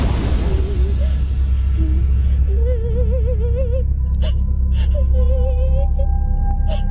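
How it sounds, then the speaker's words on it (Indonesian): Eerie wavering wail like ghostly crying in a haunted alley, rising and falling in long moaning tones over a steady low rumbling drone, with a few brief breathy whooshes near the end. "terus aku dengar suara tangisan"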